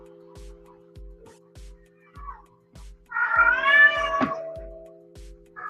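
A female cat in heat lets out one long, loud, drawn-out wavering meow, with a shorter call at the end and a steady rhythm of soft low thumps underneath throughout.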